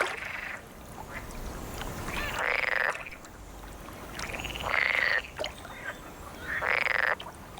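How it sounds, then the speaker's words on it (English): Frogs in a forest call at dusk, with a few loud, rasping croaks coming in bursts of a second or so over a constant buzzing chorus of other calls in the background. "The chorus of croaking calls occurs mainly at dusk or at night"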